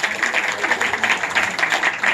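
An audience at a Korean book concert on Buddhist philosophy claps to welcome the speaker, a short burst of applause with rhythmic, fairly close clapping.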